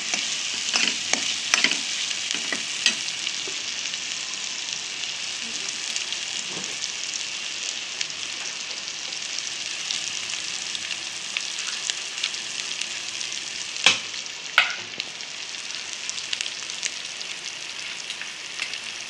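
Sev bhaji masala with green chilli and coriander sautéing in a pan, a steady broad sizzle broken by scraping stirs and a few sharper clacks of the spoon, close and continuous with no talk.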